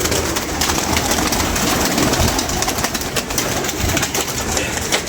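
Pigeons coo under a loud, dense wash of continuous background noise, with no speech.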